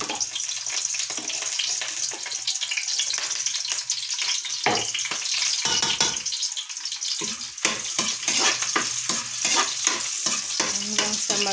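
Garlic fries in a little cooking oil, a constant close sizzle with frequent crackling bursts and the scrape of a spatula stirring throughout, loud and without speech.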